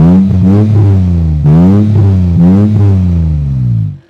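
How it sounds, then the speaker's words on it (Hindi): A Suzuki Bolan van fitted with an HKS exhaust is revved hard several times. The loud, close engine note surges and falls in repeated throttle blips before cutting off. "ये भी HKS के एग्जॉस्ट लगा रखे हैं इन्होंने और साउंड भी क्वाइट मैसिव है"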